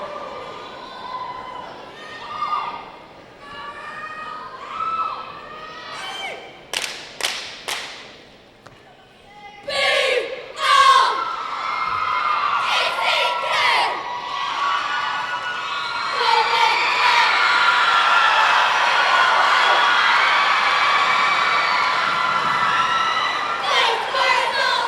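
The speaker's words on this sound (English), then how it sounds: "And a strong, boisterous crowd here to cheer on the Panthers in round 3." A boisterous crowd cheers on the Panthers cheer team in round 3 of a Class A competitive cheer final, with scattered shouts and claps building into a sustained roar that continues to the end, partly over an announcer's voice.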